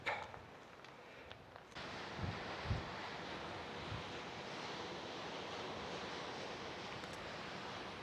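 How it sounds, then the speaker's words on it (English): Steady wind blows across an exposed hilltop trail near English Harbour in Antigua, a loud continuous broadband roar with a brief lull at the start, then constant gusting with small thumps of buffeting against the microphone. "it's a little blowy up here"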